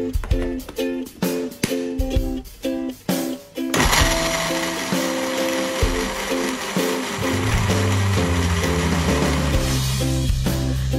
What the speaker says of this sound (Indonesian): Pertama kita blender bawang dan cabainya dulu.